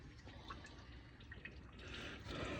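Steady trickling and dripping water draining from the engine of a 2017 VW Transporter 2.0 diesel van during a timing belt and water pump change, a continuous liquid splash that grows a little fuller toward the end, with no voices.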